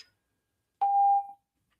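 A robot sounds one clean electronic beep, a short steady tone of about half a second, alone in near silence after a faint brief click.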